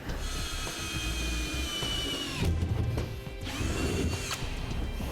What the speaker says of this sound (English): use a 1/4 inch bit to drill out my pilot hole